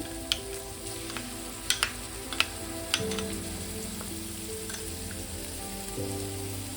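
Paneer sandwich filling is stir-fried with a spice mix, a steady close sizzle punctuated by sharp clicks and taps of a spatula against the pan early on, then continuing evenly, with no talking.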